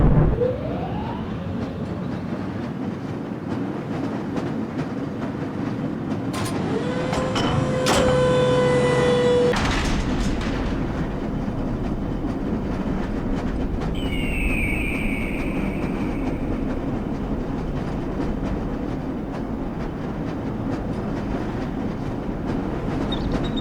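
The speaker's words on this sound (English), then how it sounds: "This lever-controlled train will transport you to a location where your training associates are waiting for you" A lever-controlled train in the Black Mesa video game rolls along its rails, a steady low rumble with a clanking, squealing passage midway and some electronic tones near the end.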